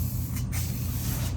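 Aerosol spray paint with built-in primer hisses steadily from a can onto door hardware, a continuous close broadband spray with a brief pause partway through.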